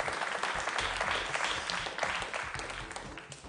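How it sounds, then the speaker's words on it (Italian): Studio audience applause on an Italian cooking show, brisk clapping from a crowd with individual hand claps standing out, fairly close and lively for a few seconds. "L'ho proprio chiamato, questo applauso"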